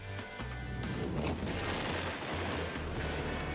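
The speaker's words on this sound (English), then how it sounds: "We have explosion!" A video game explosion sets off a dense, loud crashing roar with rumbling booms and debris, continuous for several seconds without talk.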